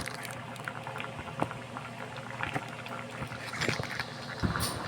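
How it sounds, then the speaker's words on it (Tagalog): Vegetables such as alugbati, patola and sitaw boil in plain water with no oil, giving a steady bubbling simmer with soft pops and light patter throughout, close and moderately quiet, with no talk. "Simpleng-simple, walang mantika. Pinakuluan lang."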